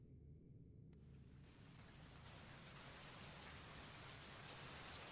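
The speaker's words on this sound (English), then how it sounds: "The rain begins to fall heavily." Heavy rain pouring down during a loud storm, a dense hiss of drops building from a muted start into a steady downpour that stays strong and close throughout.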